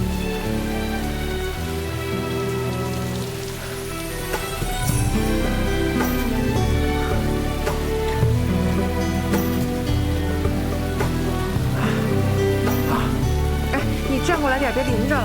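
Steady rain falls on the ground in a period drama scene, a dense continuous patter heard close by under soft music, with people talking over it.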